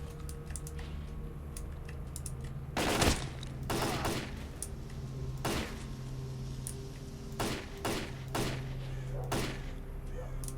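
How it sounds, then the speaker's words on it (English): Scattered gunshots ring out as zombies fire on each other in S.T.A.L.K.E.R.: Call of Pripyat: a handful of separate sharp cracks spaced a second or two apart, mid-distance, over a steady low ambient hum. "the zombies are doing me a great favor by shooting each other in the back"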